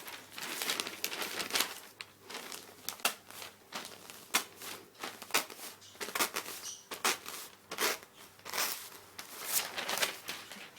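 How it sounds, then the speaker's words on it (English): Newspaper ripped apart by hand while folding origami seedling pots, heard as close, repeated bursts of tearing and crinkling paper that come in uneven rhythm for about ten seconds, with no talking. "Paper's been ripped in half."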